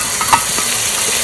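Spices and beaten yogurt fry loudly in a pan, a dense steady sizzle with a quick stirring clink early on, no voices.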